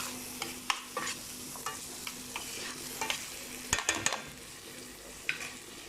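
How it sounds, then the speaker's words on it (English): Tomatoes stirred into a sizzling masala paste for mutton mince curry, a spoon scraping and knocking the pan in irregular strokes over a constant close frying hiss. "In goes the tomatoes, stirred into the masala paste."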